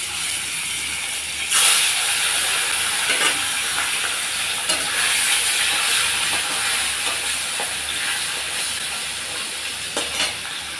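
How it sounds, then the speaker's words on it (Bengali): Fish frying in mustard oil in a pan for a taro and potato curry, a constant close sizzle and hiss with occasional stirring clicks, no talk. "এখন মাছগুলো আমি ভেজে নেব।"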